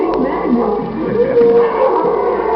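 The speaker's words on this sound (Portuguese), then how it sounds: "Tem cachorro aí, Cezinha?" A dog vocalizes in a kitchen during a cooking show, with yips and whining howl-like tones of varying pitch under background voices.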